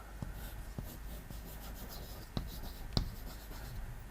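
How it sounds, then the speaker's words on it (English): Chalk or marker scratches across a classroom board, quiet rubbing strokes with a few sharp taps, close and alone without talk. "For example, I will write here"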